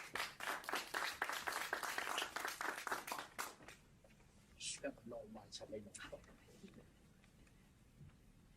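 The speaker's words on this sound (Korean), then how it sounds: "큰 박수 부탁드립니다." An audience applauds loudly for a few seconds at a lecture event, then the clapping fades to scattered claps and some quiet movement.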